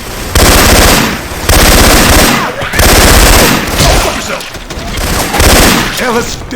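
Syphon Filter weapon effects swapped into Left 4 Dead 2 gameplay: loud, booming automatic bursts in several long strings separated by short pauses, with faint voices underneath.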